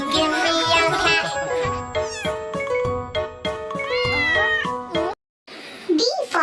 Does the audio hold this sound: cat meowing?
yes